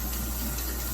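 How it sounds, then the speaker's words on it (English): Continuous rushing cold tap water pours steadily over noodles at close range, a dense unbroken splash with no breaks. "I'm running the noodles under cold water"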